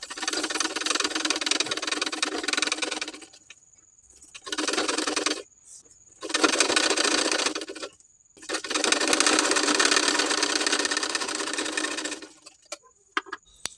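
Sewing machine stitching cut lining sleeves, running in four loud, steady bursts separated by short pauses, close and alone without talk.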